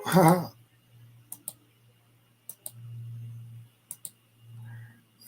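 Several sharp computer mouse clicks sound in separate pairs, close and faint, against a low steady hum and soft background noise, with a brief burst of voice at the start.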